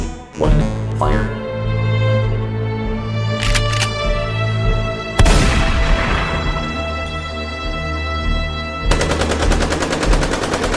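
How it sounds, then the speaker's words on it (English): Weapons firing in an animated movie, a dense burst of rapid gunfire and blasts rolling on for several seconds, loud and close, with a sharp impact midway and a rattling automatic volley near the end, set amid a music score. "On my command, fire your weapons. 3, 2, 1, fire."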